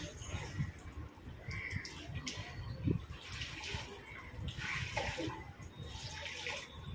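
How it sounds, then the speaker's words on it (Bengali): Leftover water from soaking a bedsheet is poured into an outdoor drain, a steady, continuous splashing and gurgling with faint background sounds throughout. "বাদ বাকি জলটা এবার সামনে ড্রেনে ফেলে দেবো"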